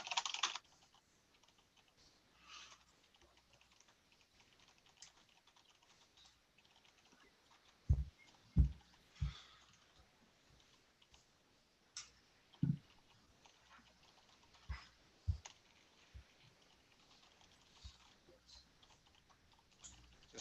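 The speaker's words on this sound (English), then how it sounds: "Just sort of typing out some of the things we might cover there." Keys on a computer keyboard tapped during an online software team meeting, soft scattered clicks coming in short bursts and isolated strokes, fairly close but quiet, with no talking over them.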